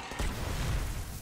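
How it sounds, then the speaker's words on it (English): A grenade blast in the shooter Destiny, during a solo Nightfall strike: a dense, low rumbling explosion that swells and rolls on for about a second with steady loudness. "I use my grenade on those guys."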